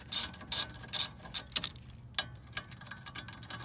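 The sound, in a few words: ratchet tightening brake caliper bolt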